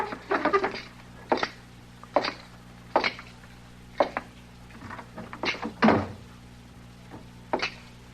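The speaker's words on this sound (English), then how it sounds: "you want me to close the door into the back?" A door into the back room in an old-time radio western drama is shut, heard as a series of distinct wooden knocks and thuds spread across the scene, fairly close and with no talking.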